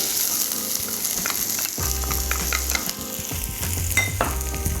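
Garlic and corn sizzling in a hot pan, a steady bright frying hiss with occasional stirring scrapes and clatter, no talk.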